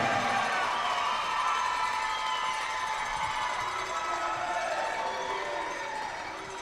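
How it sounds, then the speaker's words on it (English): A large crowd cheering and roaring during a presentation at a men's college hockey national championship, a steady loud wash of cheers and shouts that slowly fades toward the end. "Kate might have gotten the biggest cheer of all"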